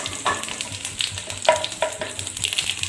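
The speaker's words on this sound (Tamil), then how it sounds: "இப்போ கடுகு பொரிஞ்சிட்டு" Mustard seeds splutter in hot oil for Navaratri sundal, sharp popping crackles in quick irregular bursts over a steady sizzle, close by and without speech.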